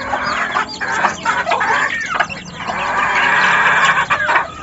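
A rooster clucks repeatedly nearby in short, uneven bursts, with a few louder squawks, sounding up close with no talking over it.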